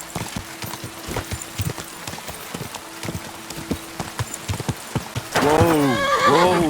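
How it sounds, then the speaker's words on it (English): A horse in the medieval video game Kingdom Come: Deliverance II trotting with steady clip-clopping hooves, then a loud, wavering neigh near the end. "That looks like a bloody expensive horse."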